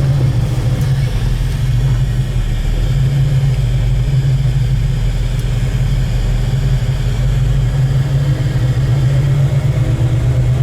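A 1964 Chevelle restomod on the move, its engine giving a steady, loud low rumble heard from inside the car with a brief surge as it accelerates.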